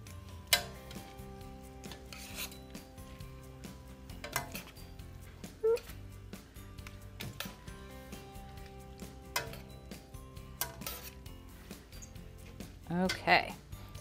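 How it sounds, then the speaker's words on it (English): Pasta with peas and a creamy sauce is mixed in a pot, with soft scraping and stirring sounds broken by occasional utensil clinks against the metal, set against quiet background hum and a speaking voice. "I'm just gonna mix everything together well and make sure it's all heated through"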